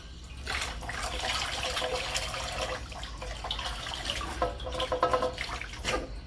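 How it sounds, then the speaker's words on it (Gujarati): Water pours steadily at home, a continuous splashing gush that runs throughout, growing choppier and more uneven toward the end, with no talking. "પાણી નાખવા"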